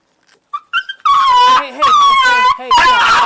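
An abandoned puppy whimpering close by, a few short yips building into long, high, wavering whines and cries that repeat loudly in succession.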